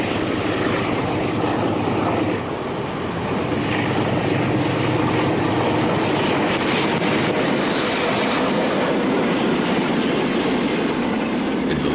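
A locomotive hauls a train on a Portuguese railway line toward the hills north of the Algarve, its loud steady engine and wheel rumble filling the scene with rail clatter throughout, no voices.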